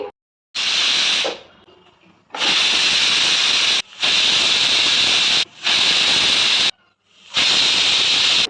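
A pressure cooker cooking beetroot vents steam in loud hissing bursts, four or five long blasts separated by brief silences, close by.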